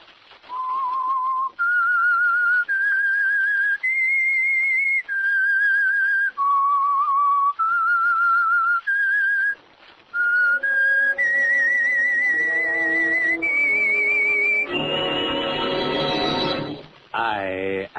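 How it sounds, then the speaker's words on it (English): A lone whistler carries the eerie theme of the 1946 radio drama The Whistler, a clear melodic line of sustained notes rising and falling, then joined by an orchestral swell near the end. "That whistle is your signal for the Signal Oil Program"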